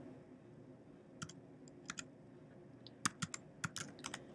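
Quiet clicks of typing on a computer keyboard, scattered keystrokes at first, then a brisker burst of several taps near the end, heard close in an otherwise quiet room.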